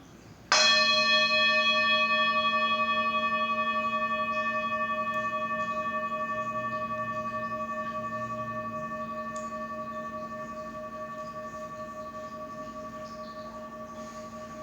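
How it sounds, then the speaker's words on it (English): A meditation bell is struck once, ringing out with a clear, sustained tone that slowly fades toward silence over about fifteen seconds, alone with no talking. "Follow the sound of the bell as it fades into silence."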